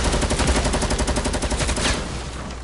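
Rapid automatic gunfire from the video game Fortnite, a dense continuous burst of shots lasting about two seconds before tailing off, loud and up front with no talking over it.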